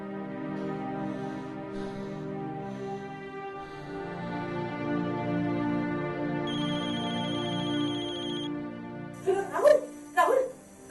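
A phone rings on an outgoing call, a bright repeating ringback tone cutting in over a steady hum of speech and background noise, followed by a couple of short louder bursts as someone answers.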